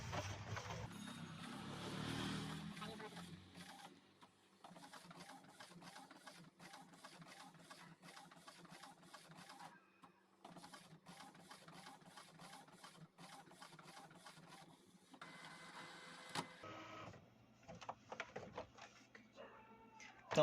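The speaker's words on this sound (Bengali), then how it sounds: "তো দেখতেই পাচ্ছেন কিভাবে প্রিন্ট করছে এবং খুব সুন্দরভাবে প্রিন্ট করছে।" An Epson L805 inkjet printer runs while printing a PVC ID card, giving quiet, rhythmic mechanical whirring in repeated bursts separated by short pauses, with a few clunks near the end.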